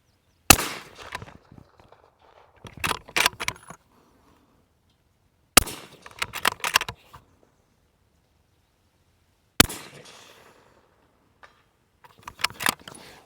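Three loud, sharp rifle shots spaced several seconds apart outdoors during scope testing in wind, each followed by clinking and handling sounds from the shooter.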